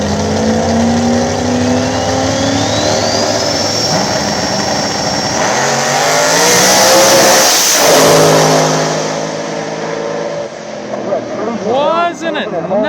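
Drag radial and street cars at a Mooresville drag strip, including a single-turbo car, launching hard and revving up as they charge down the track, loud and close with a commentator talking over the engines.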